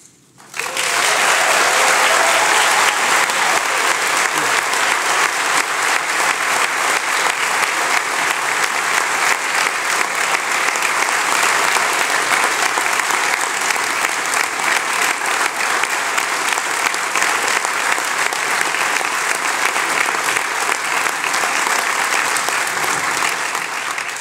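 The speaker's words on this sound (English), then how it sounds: "Upon the official opening, let's give great applause to the Lord" A crowd bursts into loud, sustained applause at the ribbon-cutting dedication of a church chapel, rising sharply at the start and holding as dense, even clapping to the end with no talk above it.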